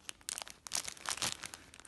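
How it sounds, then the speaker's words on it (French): Scissors snipping and crinkling through plastic packaging from a mailbox delivery, a close series of uneven crackly cuts and rustles lasting about two seconds. "Avec les ciseaux qui coupent à moitié le plastique."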